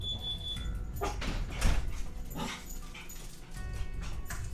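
A dog gives a few loud barks and yips mixed with whimpering, close by, with a steady low rumble underneath.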